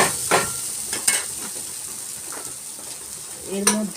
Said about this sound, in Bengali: ডাল মাখানোটা ঢেলে দিলাম দিয়ে ভালো করে নেড়ে ছেড়ে